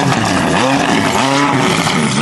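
A loud, modified car engine set up to burble rises and falls in pitch through two quick rev swells, close and powerful, with no talking over it.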